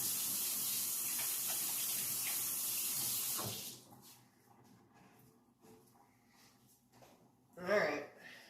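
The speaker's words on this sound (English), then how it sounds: "Wash my hands again." Water runs loudly from a kitchen tap while hands are washed during cooking, then shuts off after about three seconds. Quiet handling noises follow, with a short splash near the end.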